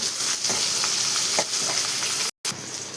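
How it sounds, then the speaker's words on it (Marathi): Greens and tomato softened in oil are sautéed in a pan, giving a loud continuous sizzle with stirring scrapes and a brief drop to silence partway through. "टाकल्याच्या नंतर असं परतून घेणार आपण"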